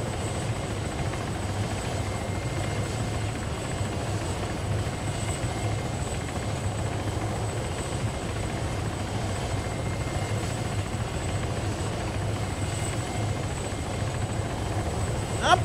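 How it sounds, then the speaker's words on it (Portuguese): A helicopter's steady rotor thump in the video game ArmA 3 drones continuously at moderate distance, holding an even level throughout with no voices over it. "Tem outro helicóptero por aqui, tô escutando ele."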